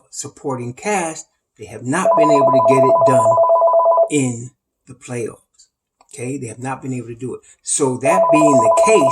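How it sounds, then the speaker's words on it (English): A telephone rings in two steady electronic trills, each lasting about two seconds, loud beneath and between someone talking animatedly about basketball. "excuse the phone"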